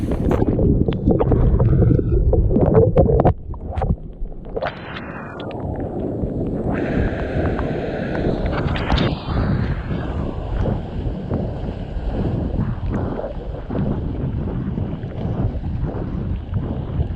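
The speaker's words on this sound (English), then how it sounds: "So now it's time to go paddle out and find out how the thing goes." Paddling out on an Indiana inflatable foil board in small waves, with steady wind buffeting the microphone over continuous water wash and splashing throughout.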